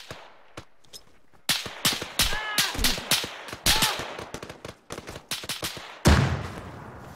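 In Arma 3 combat in Finland, a frag grenade goes off with a deep, heavy boom near the end, after a run of sharp, scattered gunshots cracking close by in quick, irregular bursts.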